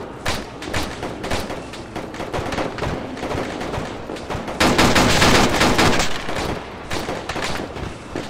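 Soldiers fire rifles and machine guns in the Arma 3 game, a dense stream of rapid shots that swells into a loud, sustained burst of gunfire midway before thinning back to scattered bursts.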